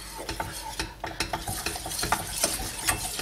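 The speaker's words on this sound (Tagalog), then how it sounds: "So, continuous lang ang pag-mix natin ito sa slow fire" A butter and flour roux for baked macaroni stirred continuously over low heat, with close, quick scraping strokes of a utensil across the pan over a faint soft sizzle.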